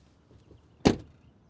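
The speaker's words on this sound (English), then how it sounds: "before we listen to the door close noise" One solid thud of a 2023 Mazda3 Turbo hatchback rear door shutting nearby, short and dull, in an otherwise quiet setting.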